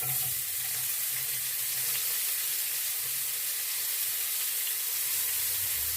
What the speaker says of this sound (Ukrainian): Сюди я більше олійки не додаю, а додаю сюди цибулю.